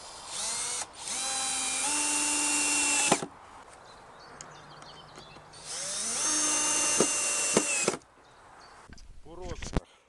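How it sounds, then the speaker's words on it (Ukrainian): A power screwdriver drives screws into wooden pallet planks for a lounge chair: two long loud whirring runs of about three seconds each, with pitch stepping down as the screw bites, separated by quieter handling noise and a faint voice. "Відірвані планки я прикручую за допомогою шрупів."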